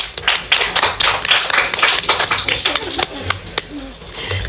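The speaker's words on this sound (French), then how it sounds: "On peut les applaudir." A classroom of students claps for their best-behaved classmates: uneven, scattered handclaps that swell and fade, heard close, with children's voices mixed in.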